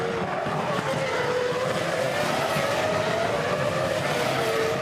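McLaren Formula 1 cars of Montoya and Raikkonen in a 2005 race, engines screaming in a continuous loud high-revving whine that holds steady throughout, with a faint rising pitch sweep.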